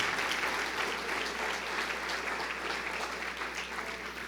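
A church congregation at a worship service claps continuously in a steady, even wash of applause, filling the room at moderate volume throughout.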